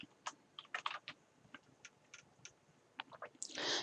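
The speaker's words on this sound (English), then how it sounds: "We're going to type in President." Keys tapped on a computer keyboard while entering text into a Word 2013 document, a quiet irregular run of close clicks ending in a brief rustling burst.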